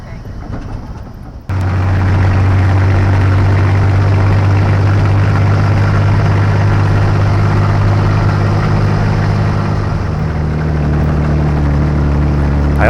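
A 1951 M37 military truck engine drones steadily and loudly once it fires up, a deep continuous rumble with a rattling spare gas tank, holding near and constant to the end.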